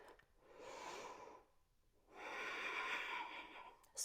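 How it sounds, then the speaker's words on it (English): A person breathes steadily while holding a yoga plank: two long, close, audible breaths, the second louder and longer, separated by a brief pause. "And then just breathe."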